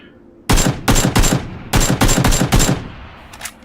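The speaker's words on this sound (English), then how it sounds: "I also missed 1 out of 4 shots" Loud, close gunfire in the PUBG video game: several sharp shots fired in two quick clusters, followed by a fainter single report at the end.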